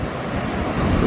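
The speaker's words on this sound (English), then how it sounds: "the waves here on the Outer Banks are something else" Atlantic Ocean surf rolls in at Jennette's Pier on the Outer Banks, a loud broad roar of waves mixed with wind buffeting the microphone, continuous and close.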